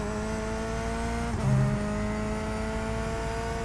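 Corvette race car engine in a sim racing video game, a steady high-pitched drone with layered harmonics held at constant revs, a brief dip and shift midway, playing alone without speech.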